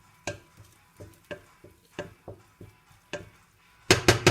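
Spatula stirring omelette eggs in a large frying pan on medium heat, a series of soft, irregular scraping taps close by, ending in a few louder clanks against the pan.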